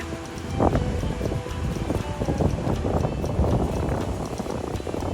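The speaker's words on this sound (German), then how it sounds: "Hier unten an der Südküste weht wohl des Öfteren ein ordentlicher Wind." Strong wind gusting across a beach on Crete's south coast, a loud rumbling buffet with microphone wind noise that rises and falls in irregular surges throughout.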